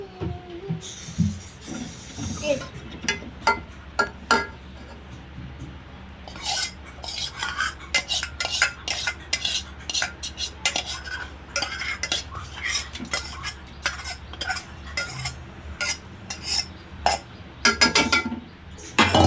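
A ladle scrapes and knocks around inside a metal pot of soaked lentils for homemade haleem, irregular close clinks and scrapes recurring throughout, with dense bursts of metallic clatter.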